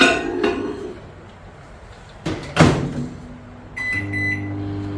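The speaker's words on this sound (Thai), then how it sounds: "เข้าไมโครเวฟ2นาทีค่ะ" A microwave oven heating Thai tea custard in a heat-resistant glass: clinks and a door clunk, then the steady electric hum of the running oven with a faint tonal whine.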